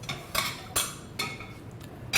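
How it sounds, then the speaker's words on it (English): Utensils stirring a colorful kale salad in a bowl make a handful of quiet, irregular clinks and scrapes, spaced a few tenths of a second apart, with no talk. "would love to stir it up"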